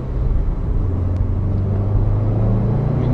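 A 2015 Subaru WRX STI accelerates on the road, its engine a steady low rumble heard close up from inside the car, with no voices.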